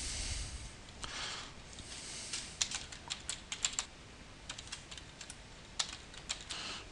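Password typed on a computer keyboard, a quick irregular run of soft key taps close to the microphone, with short pauses between bursts and no talking.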